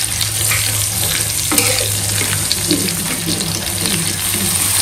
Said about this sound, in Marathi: तर आपण आता एक एक फिश पलटी करून घेऊया